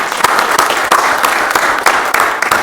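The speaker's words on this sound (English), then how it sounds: "big round of applause" Audience applause at a city council workshop and meeting, a steady wash of many hands clapping for about two and a half seconds with a few sharper individual claps standing out near the microphone.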